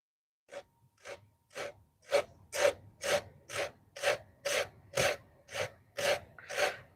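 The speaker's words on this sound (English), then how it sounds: "Gonna hand sand that." Hand sanding a knife's gradual bevel during knife assembly: about twelve steady rasping strokes in an even rhythm, close and clear with no talking.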